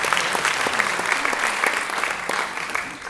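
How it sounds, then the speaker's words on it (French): An audience applauds at a medal ceremony, honouring a citizen, with dense, steady clapping from a crowd, fairly close and continuous for about three seconds. "vous pouvez applaudir, mais il y en a d'autres."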